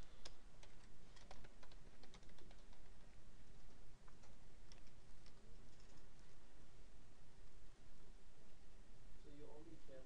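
Computer keyboard typing while writing code for nested loops, a steady run of quick, faint key clicks over a constant background hiss, no talking.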